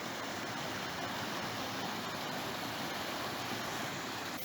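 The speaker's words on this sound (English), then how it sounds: "Now we can watch the river" A river flowing past rural land in Portugal, a steady broadband rush of water running close and loud throughout, with no voices.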